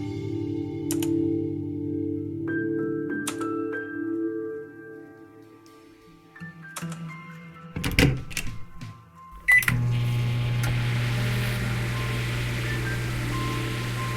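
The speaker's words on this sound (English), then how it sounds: "That lovely microwave sound." A household microwave oven: scattered button beeps and clicks, a couple of sharp thumps like a door closing, then a steady loud hum as it starts running and keeps going to the end. No one speaks.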